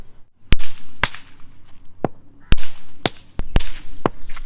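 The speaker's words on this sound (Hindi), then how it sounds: "भाई सारी लड़ी जल रही है ना? हाँ सारी जल रही हैं।" A Diwali string of firecrackers bursts with about eight sharp, loud cracks, spaced irregularly roughly half a second apart, close at hand with a faint crackle between the bangs.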